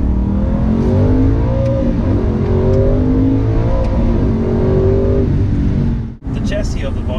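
Aston Martin N430 Vantage engine revving steadily under light throttle, a loud continuous harmonic drone close by that holds through most of the clip before a brief dip and recovery near the end.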